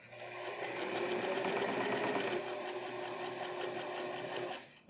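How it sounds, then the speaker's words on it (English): Close by, a sewing machine stitches pocket flaps onto a trouser lining with a fast, even needle chatter and motor hum, running continuously for several seconds before slowing and stopping near the end. "sew them down onto the actual lining along those same two edges"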